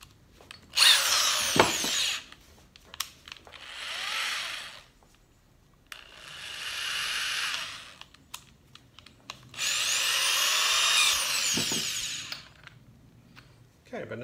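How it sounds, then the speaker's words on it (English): Power drill bores into wood during a rake handle repair, a few high whining bursts of several seconds each separated by pauses with small clicks and handling noises, close and loud. "This one allows for a bigger drill bit diameter."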